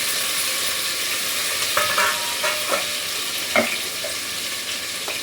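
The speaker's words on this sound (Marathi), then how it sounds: "फक्त थोडीशी कोथिंबीर तेलात घालणार आहे मी." Coriander leaves dropped into hot oil for a tempering, a steady broad sizzle with occasional scraping and clinking of a utensil against the pan, fairly close and without talk.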